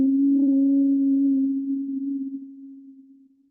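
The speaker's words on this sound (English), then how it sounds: "Inhale through nose and exhale through nose, but making humming sounds." A steady, low nasal hum of humming bee breath is held for a few seconds on one even tone, close and clear, gradually fading as the exhale runs out, with no talk.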